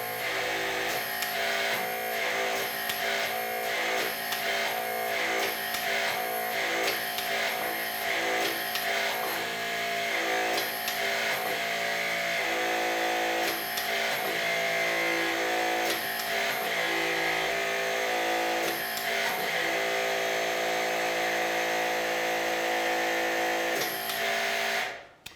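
HYTORC MXT+ hydraulic torque wrench driven by a Vector pump, a steady mechanical whir and hum pulsing with repeated cycling clicks for about twenty-five seconds, close and loud, ending abruptly.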